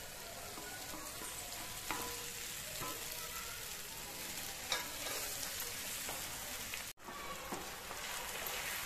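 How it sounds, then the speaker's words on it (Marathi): Chopped eggplant and onion sizzle steadily in a hot pan, a continuous close frying hiss broken by occasional stirring clinks and brief scrapes, with no talking. "हे वांग मी बारीक करून घेतलेलं आहे, हे टाकते। कांदा जास्त भाजायचा नाहीये।"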